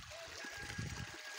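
Water trickling and flowing into a pond, a soft, steady babble with light splashy detail, faint and close, with no talk over it.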